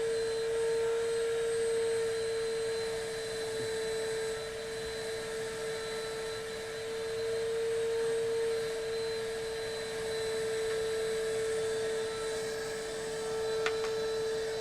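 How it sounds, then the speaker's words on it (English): A vacuum cleaner hums steadily in the background, a constant moderate drone with a sharp whine, with no talk over it. "How annoying is that vacuum cleaner?"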